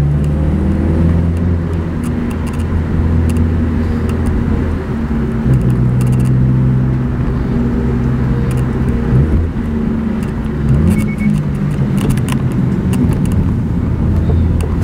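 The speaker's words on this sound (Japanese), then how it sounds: "次ちょっとシフトダウンやってみますね" Low engine drone from a Subaru WRX VAB with a Fujitsubo Authorize RM exhaust fills the whole stretch, with shifting tones as the revs rise and fall during a downshift, the note stepping through gear changes.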